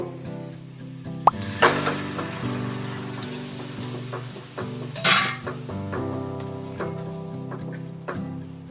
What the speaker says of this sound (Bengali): এবার আমি সেদ্ধ করা মটরগুলো এর ভেতর দিয়ে নেব